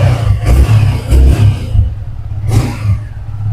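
A 2024 Yamaha R15 V3 S-model motorcycle at a used-bike showroom in Kolkata revs up close, its engine note rising and falling in several loud bursts over a steady low throb, with no talking.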